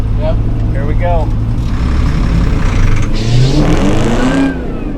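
Off-road vehicle engine revving in reverse while the clutch is slipped during a recovery, a loud, near drone rising and falling in pitch with a sustained surge toward the end.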